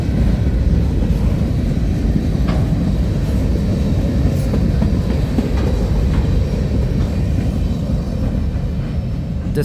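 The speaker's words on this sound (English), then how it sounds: "The symbol for this train is the CSX M560, coming from the Queens Gate Yard in Cincinnati, Ohio" A CSX freight train, the M560 with CSX locomotives including a CW44AH, passes at sunrise with a steady loud rumble and rolling wheel noise throughout, without a clear horn.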